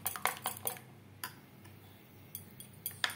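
A spoon mixes spice paste into egg batter in a bowl, giving a few quiet, irregular clinks and scrapes against the dish with soft gaps between them.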